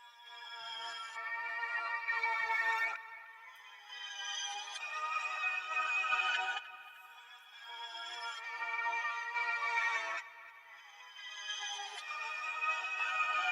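A reversed, chopped musical sample with vintage-style reverb and delay rises in soft swelling chords that stop abruptly, repeating in even phrases of a few seconds each, dark and atmospheric, with no voices.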